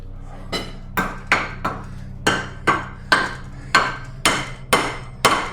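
A hammer strikes a front-wheel-drive wheel bearing held in a vise, about a dozen sharp metallic blows with ringing decays coming in an uneven steady rhythm, loud and close.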